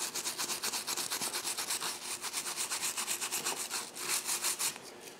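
A small fiberglass soldering brush scrubs back and forth over a bear claw, a close, rhythmic scratchy rubbing in quick regular strokes with no talking.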